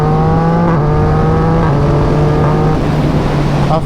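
Engine of a 2018 Yamaha MT-09 motorcycle heard while riding, a loud steady three-cylinder drone with shifting pitch as revs rise and fall, continuous and close with no talking.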